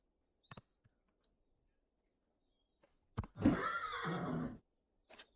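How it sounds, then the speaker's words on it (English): A horse in the video game Morrowind lets out a loud, shaking whinny lasting over a second, after soft hoof-like taps and scattered high bird and insect chirps in an otherwise quiet outdoor scene. "Riding the horse to prove, you know, that I am riding a horse"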